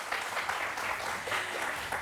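Studio audience applause at a French talk-show sports program, a steady wash of clapping held at moderate loudness for about two seconds with no talk over it.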